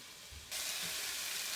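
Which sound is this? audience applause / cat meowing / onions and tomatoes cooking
onions and tomatoes cooking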